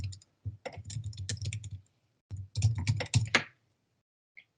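Bursts of typing on a computer keyboard, close and fairly quiet, with quick clicking keystrokes in two clusters separated by a short pause.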